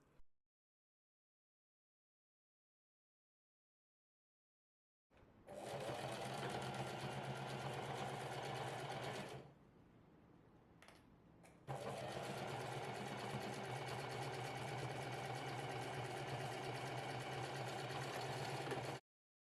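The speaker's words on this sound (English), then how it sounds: "I sewed along both edges using a 1/4-inch seam allowance." Sewing machine stitching the edge seams of a small boxy fabric pouch with a quarter-inch seam allowance, a loud, steady motor hum running for several seconds, pausing briefly, then resuming for a longer run after silence at the start.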